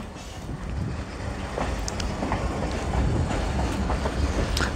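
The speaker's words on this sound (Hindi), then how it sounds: "ट्रेन इस इलाके में बहुत स्लो स्लो जा रही है" The Kohat Express passenger train rolling slowly on rails through a populated stretch with curves, a steady close rumble with faint rhythmic clicks and rattles running throughout.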